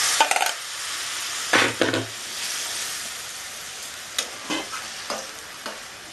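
Curry for a Bengali rohu fish, potato and bori jhol is poured into a hot pan, with a soft continuous sizzle broken by a few sharp bursts and spoon scrapes, close and fairly quiet.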